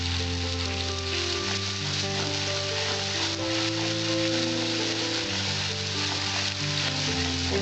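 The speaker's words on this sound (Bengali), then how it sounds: "এবার আমি মশলাটা ভালো করে ভেজে নেব।" Ground spices sizzle in hot oil for a Bengali okra masala with dry chilli powder, turmeric and salt, a loud, steady, close frying hiss that never lets up, with no talking over it.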